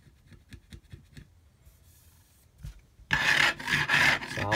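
Fret ends on a Squier Telecaster being filed to a bevel: a few light taps and soft scrapes, then loud, continuous back-and-forth rasping strokes close up that fill the last second and a half.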